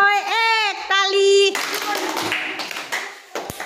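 Children in a classroom literacy rhythm game chant together in unison, then clap their hands, a burst of close, fairly loud, uneven clapping that lasts a couple of seconds.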